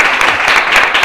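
Brief burst of audience applause at a book presentation in a hospital setting, dense close clapping for about a second.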